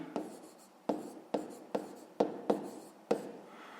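Quiet pen strokes on notebook paper as a fifth-grade math exercise is written out, seven short scratchy bursts in an uneven rhythm, close up and without any talk.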